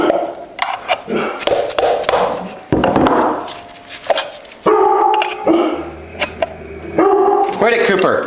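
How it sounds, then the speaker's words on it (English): Dog barking indoors in a home garage during a Subaru STI transmission teardown; loud, repeated sharp barks in irregular bursts throughout, with a person talking over them at times. "My dog is going insane for some reason right now."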